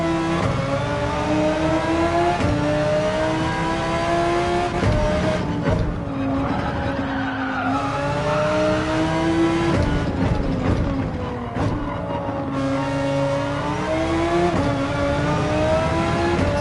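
A race car in Gran Turismo's World Series Manufacturers Cup accelerates hard, its engine note climbing steadily through repeated gear pulls. The sound is loud, continuous and close, with brief dips at shifts and no talking.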